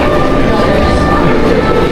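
Loud, continuous rumble of a train at a New York train station with a steady mechanical drone, voices mixed faintly into the noise.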